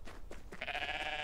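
A goat in a video game bleats once, a sustained, fairly loud nasal call following a few softer ambient sounds, with no talking over it.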